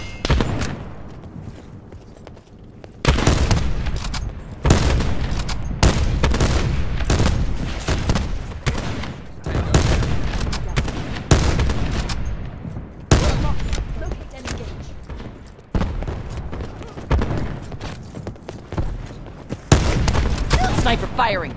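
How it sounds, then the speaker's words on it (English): Bolt-action sniper rifle gunfire in a first-person shooter video game, loud repeated shots in dense bursts with brief quiet gaps, the first three seconds quieter before the steady volley of blasts begins. "Sniper firing."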